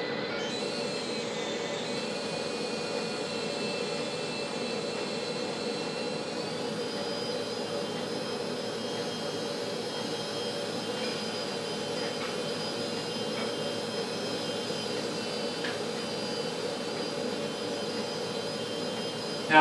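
Steady whine of a Litehawk 6996 single-blade, fixed-pitch three-channel RC helicopter in flight, a continuous close motor-and-rotor drone with high tonal lines holding level for about twenty seconds, no talking.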